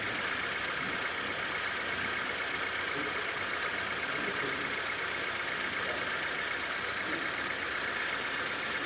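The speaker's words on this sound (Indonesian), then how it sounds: "namun kali ini kondisi mesin sudah hidup" A car engine idles steadily during a diagnostic data stream check, a constant close rumbling hiss with no change over the whole stretch.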